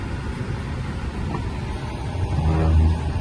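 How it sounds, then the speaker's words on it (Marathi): Heavy road traffic on a rainy day, a steady broadband rumble of passing cars and engines that swells as a nearer vehicle accelerates past toward the end, with no voices. "खूप जास्त ट्रॅफिक आहे."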